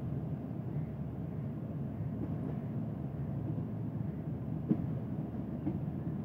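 A train pulling out of Lodhran junction on to the branch line makes a low, steady rumble from inside the carriage, with faint rattles and one brief clank and no voices.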